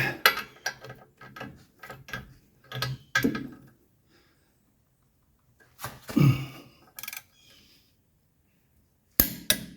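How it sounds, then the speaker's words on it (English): A torque wrench tightens a front suspension bolt on a 1985 car, with a quick series of metallic ratcheting clicks and clanks, then a pause and more scattered clunks, close and fairly loud. "now we got our torque wrench on here"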